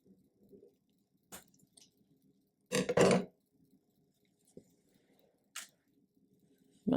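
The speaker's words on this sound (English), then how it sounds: "I'm going to go ahead and squeeze the glue" A glue bottle is squeezed in a few short wet squishes and sputters, the longest a thick burst near the middle, with quiet pauses between them and no voices.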